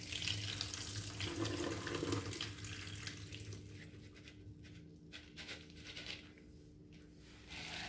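Lentils being rinsed for Moroccan harira under a running kitchen tap, a steady close water rush and patter into the sink that softens and thins over the last few seconds, with no talking.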